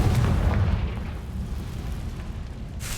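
The Confringo fire spell in Hogwarts Legacy detonates with a heavy, close boom that rumbles and fades over a few seconds, followed by a brief hiss near the end.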